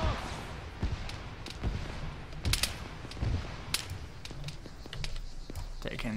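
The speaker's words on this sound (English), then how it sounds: "Taking some shots from somewhere." Scattered gunshots in an Arma 3 battle, with sharp isolated cracks and short bursts at varying distances over a steady background rumble, and a voice talking intermittently underneath.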